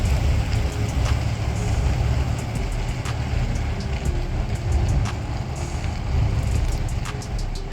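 A travel trailer being towed away by a vehicle, a loud continuous road rumble with rattling and clicks, steady and close for the whole stretch.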